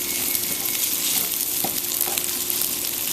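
Hash browns frying in a skillet for a cheesy Denver breakfast, spread out in the pan and giving a steady, even sizzle with faint stirring touches, no voices.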